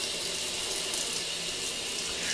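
Water hisses steadily from a shower tap running through a filter, a constant even rush with no breaks or voices.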